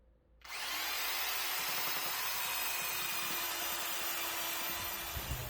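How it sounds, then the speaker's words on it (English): A power sander whirs on abruptly and runs steadily at high pitch, with slight rasping changes as it sands a curved wooden edge. "Surprising how little time it takes to sand in a nice smooth curve"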